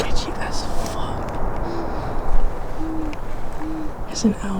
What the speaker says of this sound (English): There's an owl somewhere.